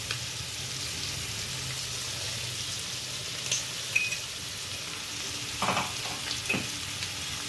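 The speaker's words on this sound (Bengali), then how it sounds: "ভালো করে এগুলো সব সবজিতে মিশিয়ে নেব, মিশিয়েও আর একটু ভাজবো" Vegetables for a pui shak dish with shrimp fry in a pan after sugar and turmeric go in, giving a steady soft sizzle throughout with a few brief stirring clatters near the end.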